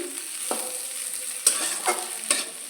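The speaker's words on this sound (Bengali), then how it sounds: "এখানে আলুটা ভাজা হতে দিয়েছি।" Potatoes fry in a pan with a soft, low sizzle, punctuated by three or four clicks and scrapes of stirring, fairly quiet and close.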